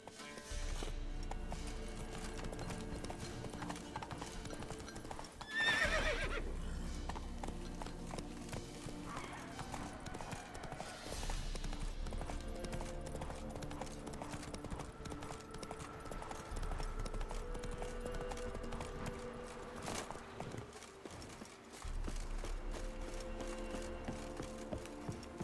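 A horse's hooves clip-clop at a steady gallop in The Witcher 3, a rhythmic drumming that runs throughout alongside game music, with a brief neigh near the start.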